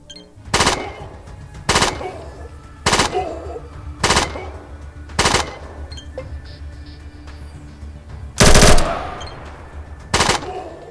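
Submachine gun bursts from the game ATOM RPG ring out in six short, loud volleys at uneven intervals, each a sharp rattling burst with faint metallic clinks between them.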